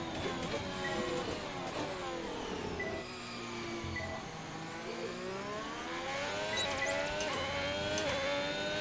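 A Lamborghini fitted with a Ferrari engine in the F1 2021 racing game screams through rising and falling revs, its high engine whine sweeping up and down through gear changes, loud and continuous with no talk.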